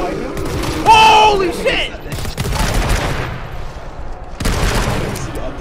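Close, rapid gunfire from the co-op shooter GTFO bursts in under loud, excited voices, with a sharp volley near the start and further shots scattered through the shouting.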